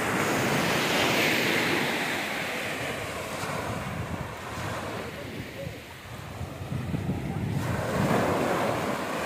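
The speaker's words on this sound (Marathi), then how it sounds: "तुम्हाला बीच पण दाखवतो" Surf rolls and breaks continuously on a long sunny beach in Sindhudurg near Vengurla, a loud broad wash of waves mixed with strong wind buffeting the microphone.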